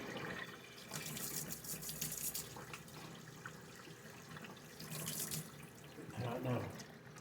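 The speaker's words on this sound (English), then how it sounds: "Rinse out your funnel here." Tap water runs steadily into a sink while a funnel is rinsed during preparation of bee feed, a continuous splashing wash with shifting intensity and a few clunks near the end.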